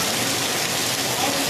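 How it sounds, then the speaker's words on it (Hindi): Heavy rain mixed with small pieces of hail pours down in Patna, a dense, steady, broadband hiss that stays loud and even throughout with no pauses. "और देखिए धीरे धीरे ये बारिश तेज होती हुई"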